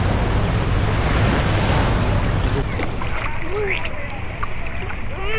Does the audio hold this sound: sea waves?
yes